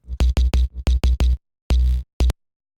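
A deep synth sine wave without FM pulses in short, evenly spaced notes, then pauses before a longer held note and one last short hit.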